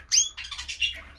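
A pair of red opal canaries, hen and cock, give a few short squawky chirps, loud at first, then softer calls close by.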